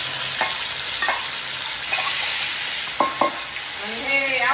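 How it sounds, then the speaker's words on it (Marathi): Keema sizzles in a little hot oil in a kadai, a steady close hiss broken by a few sharp clinks and stirring knocks, with a brief high whine partway through. "बघा आता कढई टाकली आपली, तर टाकूया हा खीर"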